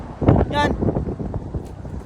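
Strong gusty wind from a dust storm in West Texas, with no rain, roars and buffets the microphone, with someone talking over it throughout.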